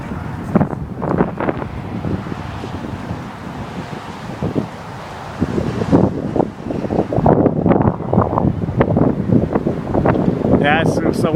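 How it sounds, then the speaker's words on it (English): Strong gusty wind buffeting the microphone at an outdoor gathering of a Ladybug flying model in high wind, a loud rumbling roar that swells and dips, with people talking over it. "Here's our 10 to 15 and gust to 25 wind they were talking about."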